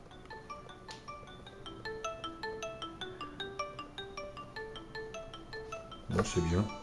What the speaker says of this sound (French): on va écouter un peu les sonneries.